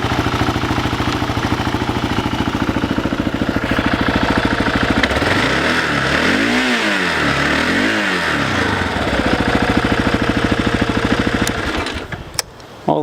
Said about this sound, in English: It sounds like a KLR.